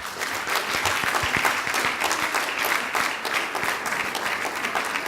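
An audience at a closing plenary session claps steadily throughout, a dense, even applause from a crowd indoors with no voices standing out.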